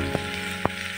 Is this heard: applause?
no